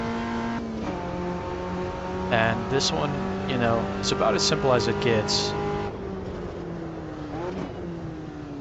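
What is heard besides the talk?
race cars driving on track in video game Automobilista 2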